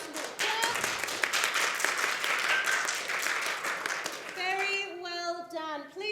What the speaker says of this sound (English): let's give the Year 6s one last little clap